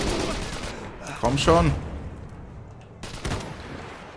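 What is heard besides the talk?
gunfire in Iron Harvest video game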